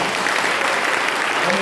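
Church congregation applauding together in a sustained, dense burst of clapping that fills the room, steady and fairly loud throughout with no talk over it.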